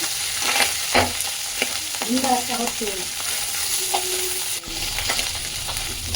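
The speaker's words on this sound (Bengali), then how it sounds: "ট্যাংরা মাছ খুব ফোটে" Tangra fish fry in oil in a pan, giving a continuous close sizzle broken by sharp spattering pops and occasional stirring scrapes, with no talking.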